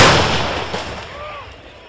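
A loud, booming artillery blast at the start, with its rumble rolling away and fading over a couple of seconds outdoors during counter-battery fire near Bakhmut.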